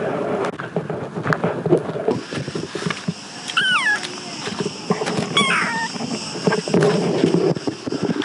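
A cat meows twice in short rising calls, a few seconds apart, over a busy background of voices and outdoor noise.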